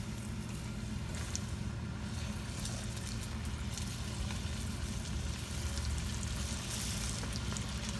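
Green tomato slices fry in hot canola or peanut oil, a dense, steady sizzle and crackle that runs continuously at a moderate level with no talk over it.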